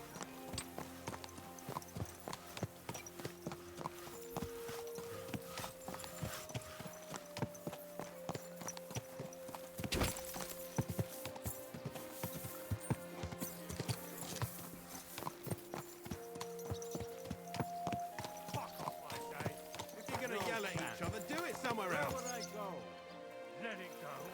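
Horse hooves clip-clop steadily through a Kingdom Come Deliverance II game scene, with an occasional whinny, under game music and a voice.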